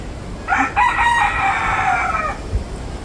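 A rooster crows once, a loud drawn-out call that rises and holds before trailing off, with faint outdoor background noise.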